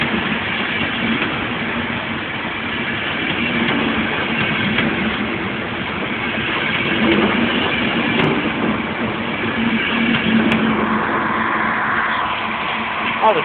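Train standing at Connolly station in Dublin during an Autumn Leaves special excursion, giving a steady rumbling idle with faint rail clatter, close by and continuous while people talk nearby.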